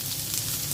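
Sliced onion hits hot oil in a home kitchen pan and gives a brief, steady sizzling hiss with no talking.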